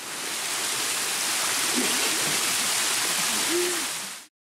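Steady, loud rush of the Tirta Rimba waterfall in Baubau, Buton Island, Indonesia, fills the scene continuously, a dense broadband roar with a faint birdlike hoot briefly rising above it.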